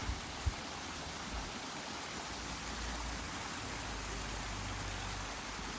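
Heavy rain and rushing flood water in the mountains, a dense, loud, continuous roar of pouring water with no pauses, like a waterfall close by.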